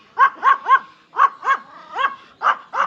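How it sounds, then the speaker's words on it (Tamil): A puppy at Fundera Park in Yelagiri barks close by in quick sharp yaps, three together, then pairs and singles, loud and clear with no talk. "என்ன டாக் இது?"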